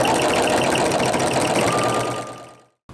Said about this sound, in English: just go ahead and sew it like I am with your walking foot